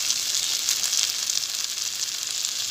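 Tomatoes are added to a hot pan with onions and boiled chicken while making chicken spaghetti, giving a loud, steady, close sizzle of frying throughout, with no talk.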